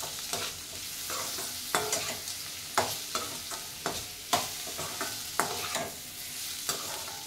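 Green papaya sautéed in a pan with crushed garlic and cumin for papaya kootu: a steady sizzle broken by regular scraping strokes of a spoon, about one every half second, close and clear with no voices.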